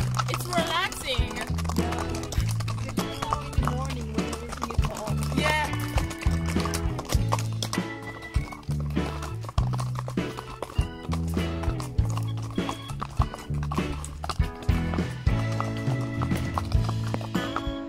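Horse hooves clip-clopping on a trail ride in Tuscany, a steady close walking rhythm of sharp repeated hoof strikes that carries on throughout, with occasional voices nearby.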